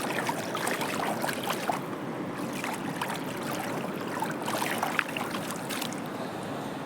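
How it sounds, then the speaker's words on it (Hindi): A clear river flows past near a quiet village temple in Himachal, with low water levels; a steady, broad rushing and gurgling wash continues throughout, with faint splashes and trickles. "तो हम नदी को देखते हैं।"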